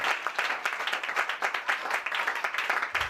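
A congregation at a Pentecost church service bursts into sustained applause, many hands clapping in a dense, lively patter that stays steady throughout, moderately distant in a hall.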